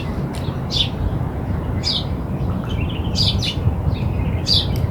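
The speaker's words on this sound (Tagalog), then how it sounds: "Naririnig nyo yung huni ng ibon." Small birds give scattered short, high chirps outdoors, a few quick calls spaced across several seconds over a steady low rumble of background noise.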